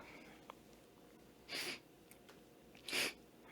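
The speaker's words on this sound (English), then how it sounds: "What a weird sneeze." Two short, breathy bursts roughly a second and a half apart, each an odd, hissy sneeze from a person, heard alone over quiet background.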